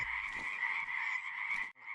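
A wild frog calls from a distance across the water, one continuous trilling croak held for most of the moment before a short break and resumption, fairly faint and without voices.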